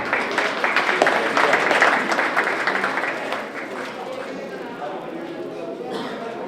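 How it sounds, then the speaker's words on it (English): Audience applause at a book unveiling during a Bhim Jayanti event in London, loud clapping that fades to quieter scattered claps and crowd murmur after a few seconds, with voices underneath. "give them a good round of applause as they unveil the book."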